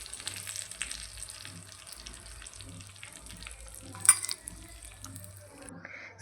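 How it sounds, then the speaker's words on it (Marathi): Tadka tempering for hotel-style dal tadka sizzles in hot oil, a faint, even crackle over a low kitchen hum, with a brief louder spurt of spitting partway through. "फोडणीचा आवाज तुम्हाला आलाच आहे."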